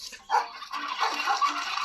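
A dog barks several times in quick, excited bursts, fairly close, with some yips mixed in.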